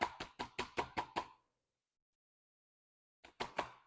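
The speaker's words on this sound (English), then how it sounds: "you want to knock on the pots to make sure that all the air holes are actually covered" Plant pots are knocked during repotting: six quick, evenly spaced hollow raps, then silence, then a short burst of three more knocks, crisp and close.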